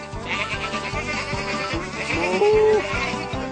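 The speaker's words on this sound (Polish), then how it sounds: "Tom, poszukaj Reksi i zagoncie owce." Cartoon sheep bleat in a farmyard, a string of repeated wavering baas, several close together and fairly loud, with one higher drawn-out bleat near the end.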